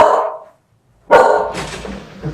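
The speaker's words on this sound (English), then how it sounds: "Oh, my dog." A normally calm house dog barks loudly and close indoors: one sharp bark, a brief pause, then a longer bark that trails off into a rougher huff.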